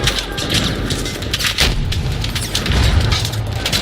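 Muffled booms and crackling bursts of gunfire fill the clip, with dull grenade explosions rolling under a constant, dense battle noise in Battlefield 4, airport map.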